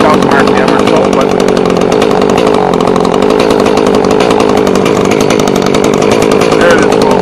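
A GoPed-style scooter with a chainsaw motor revs hard to a high, buzzing whine, loud and close, the raspy two-stroke tone held steady throughout.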